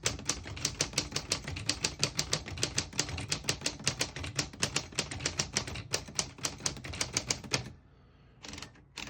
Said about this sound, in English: it feels classic when you type on it, and the sound is kind of almost muffled compared to most typewriters